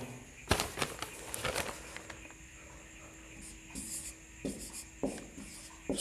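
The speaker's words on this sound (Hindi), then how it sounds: "अब मैं लिखता हूँ," Handwriting strokes from a pen or marker on a surface during a grammar lesson, with a burst of quick scratchy strokes early on and then sparse, separate marks, close and fairly quiet, with no talk.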